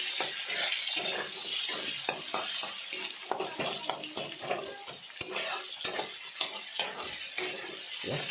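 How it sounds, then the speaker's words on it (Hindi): Onions frying and being stirred in a pan for vegetable fried rice, a bright continuous sizzle with scraping stirs and clinks of a utensil against the pan. "पियाज फ्राए कर सारा"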